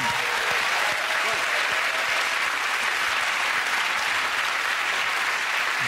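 Studio audience applause closing a Mock The Week comedy panel show, a dense, sustained roar of many hands clapping at even loudness throughout, a voice faintly under it.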